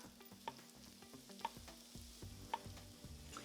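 Turmeric, asafoetida and chili powder frying in an Instant Pot, a soft steady sizzle with three sharp metallic spoon taps against the pot, close and quiet, no talking.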